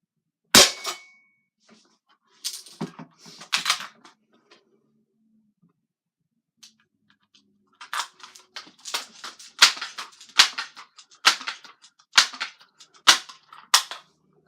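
Umarex NXG APX pump air rifle firing: a single sharp crack near the start, then after a pause a long run of rapid, crisp snapping clicks and pops, close and fairly loud, with no talking.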